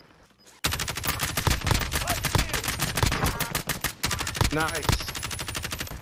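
Rapid hip-fire gunshots from a Warzone Zombies match burst out after a brief quiet start and rattle on as dense, loud automatic volleys for several seconds, with a player's voice speaking briefly over the shooting.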